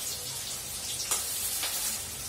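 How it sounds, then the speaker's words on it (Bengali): Two medium-sized onions fry in a pan for a mutton dish, giving a soft, steady sizzle close by with a couple of brief stirring scrapes. "এবার এটাকে একটু পেঁয়াজটাকে একটু লাল করে ভেজে নিতে হবে।"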